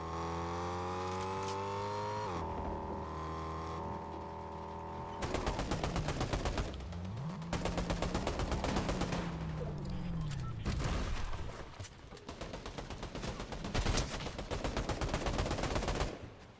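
Rapid automatic gunfire in the video game Fortnite, long loud bursts broken by short pauses, following a steady engine-like whir at the start.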